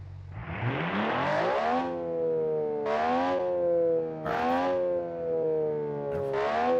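A synthetic-sounding car engine in a video game, a Challenger in an autocross, revs up in four rising pulls, each climbing in pitch and then easing back, clean and close with no background noise.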